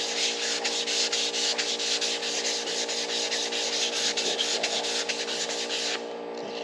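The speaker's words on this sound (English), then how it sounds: "And you want to use a block, you don't want to use your fingers because you gouge the paint" Sanding block rubbing over painted body panel of a 1964 Valiant, a steady close scratchy rasp of strokes running continuously, then stopping abruptly near the end.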